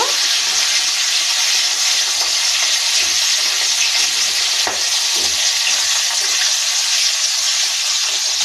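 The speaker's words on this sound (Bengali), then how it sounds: "টমেটো কুচি আর কাঁচা লঙ্কা একটু নাড়িয়ে নেব" Chopped tomato and green chili are stirred in hot oil that was first seasoned with cumin, dried red chili and a bay leaf, producing a loud, continuous close-up sizzle and hiss with faint stirring, with no voices.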